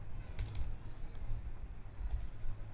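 Someone types a short command on a computer keyboard: a few soft, quick key clicks in two small bursts, close but quiet over a low room hum.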